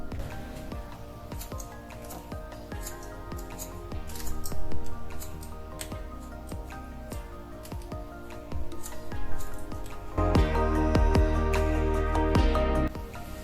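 Scissors snip through hair during a self-haircut, making rapid, dense little cuts close up over a busy background, with a louder stretch of snipping near the end.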